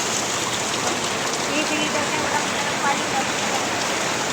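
Heavy rain pours down in a constant, dense hiss, loud and even throughout with no break.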